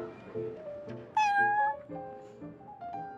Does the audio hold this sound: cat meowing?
yes